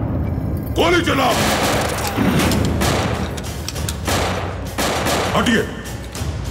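Bursts of gunfire crackle in quick volleys, loud and close, mixed with shouting voices and dramatic background sound.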